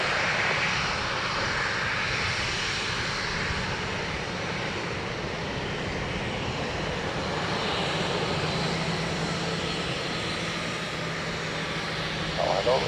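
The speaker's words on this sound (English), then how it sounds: "Aer Lingus 320 from Paris." An Aer Lingus Airbus A320 arriving from Paris at Dublin Airport makes a steady, broad engine roar that holds for the whole stretch, with a voice talking over it.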